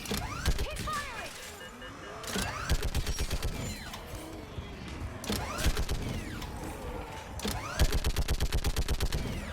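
Rapid automatic gunfire in a video game battle on Thessia in Mass Effect 3, bursts of rattling shots repeating through the scene under explosions and mechanical clanks, with voices shouting now and then.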